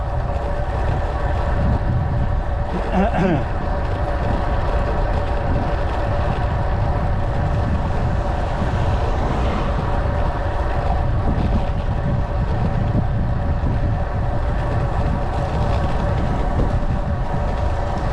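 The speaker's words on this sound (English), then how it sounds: "There's a fair bit of wind today, so I don't know if you're picking that up on the mic" Wind buffeting an outdoor microphone, continuous rumbling gusts over a steady mechanical hum throughout, fairly loud and unbroken, with no speech.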